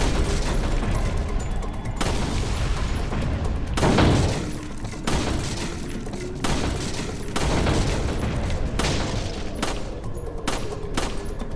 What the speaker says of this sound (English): It's basically just a shooting range